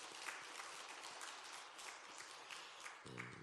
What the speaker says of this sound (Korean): 축하한다고 또 건강하시라고 박수 한번 주시기 바랍니다